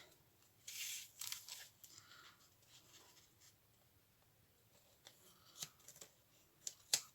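Paper being cut with scissors for a handmade glue book, quiet close snips and rustles in irregular bursts, with a few sharper crisp cuts toward the end.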